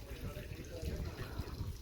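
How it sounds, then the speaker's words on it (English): Mountain water runs steadily into old communal wash basins in the village of Guadalest, making a continuous close splashing and trickling with no pauses. "I don't know if it's drinking water from the mountain there."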